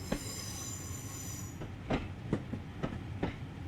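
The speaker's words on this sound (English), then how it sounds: "Just realised it's using the Severn Valley Railway coaching stock." Severn Valley Railway coaching stock rolls along in the Train Simulator video game. A high wheel squeal fades out early, then repeated rhythmic clickety-clack rail joint knocks follow under a steady rumble, with no talking.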